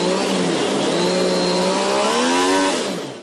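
An MV Agusta three-cylinder motorcycle engine runs hard on a dyno in a factory test room, a loud continuous rising whine with steady harmonics held for about three seconds before it begins to fade.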